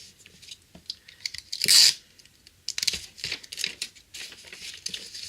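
Masking tape torn off a roll to hold a handmade paper gift bag closed, one sharp ripping burst amid soft paper crinkling and handling noises, close and fairly quiet.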